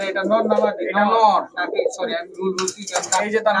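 Pigeons coo at a healthy, sturdy loft of breeding pairs, including Indian and Pakistani high-flyer giribaz birds. The low cooing runs steadily beneath a man's near, continuous talk.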